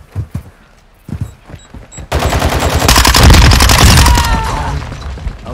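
Gunshots and machine gun fire in the video game Modern Warfare II: a few scattered sharp shots, then a loud sustained burst of rapid automatic fire rattling on for several seconds.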